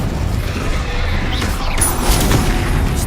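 A spell burst from the Hogwarts Legacy video game: a loud, crackling, booming magical blast with a sharp hiss near its peak, set against dense in-game noise without pauses.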